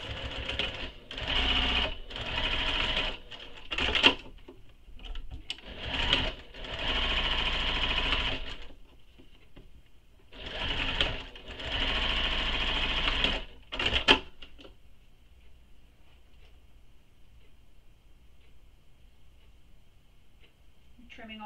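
A sewing machine top stitching a connector piece on a mini backpack, running in several loud bursts of rapid stitching separated by short pauses, then stopping into near silence.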